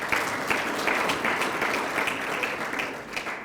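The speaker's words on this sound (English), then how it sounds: "Please, let's give them a round of applause." A lecture audience gives a round of applause for guests at a memorial lecture, continuous dense clapping that holds steady and then begins to ease toward the end.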